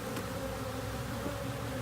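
Honeybees buzzing as two hive colonies are combined, a dense, continuous close drone of many insects at low level.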